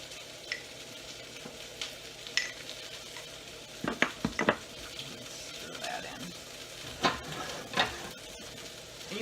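Arrowroot being stirred into hot oil in a pan for a roux, soft sizzling under scraping and clinking of a utensil against the pot, with a few sharper knocks near the middle.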